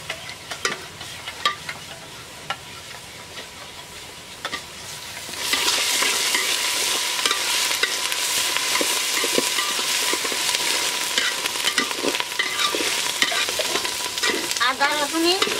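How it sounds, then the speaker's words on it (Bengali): Ginger garlic paste frying in a pan for mutton curry: a quieter stirring sizzle that swells into a loud, dense, continuous hiss and crackle, with occasional scrapes, close up and without talk. "আদা রসুন বাটা দিয়ে দেব।"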